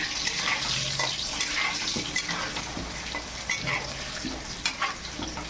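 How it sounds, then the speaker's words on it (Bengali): Potatoes fry in a pan with salt and turmeric while being stirred, giving a steady sizzle broken by frequent scraping and stirring clatter, close and continuous, for a Bengali mutton kosha. "আমি একটু সামান্য লবণ দেব, একটু হলুদ গুঁড়ো দিয়ে আলুটা ভেজে নেব।"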